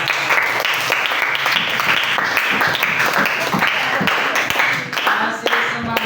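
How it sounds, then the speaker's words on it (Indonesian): A group of participants at a positive-culture school session claps together in a dense, continuous burst of applause lasting several seconds, with voices mixed in. "Oke, tepuk tangan dulu untuk semuanya."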